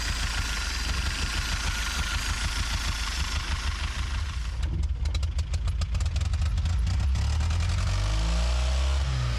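Old, long-abandoned tow truck engine running and pulling away, with a rough, loud low rumble throughout, shifting into a rapid pulsing rhythm midway and then a deeper revving surge near the end.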